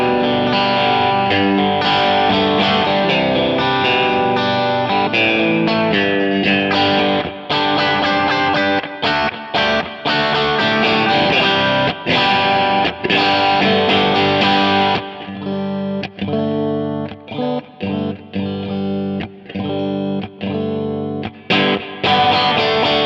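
An electric guitar with a Strat-like tone runs through a J Rockett .45 Caliber overdrive pedal, with bass cut back, playing a busy, driven riff-and-chord passage, loud and continuous, with some choppier strummed stabs near the end.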